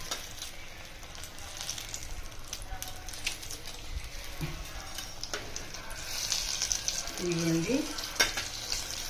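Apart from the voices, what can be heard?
paneer bajji frying in oil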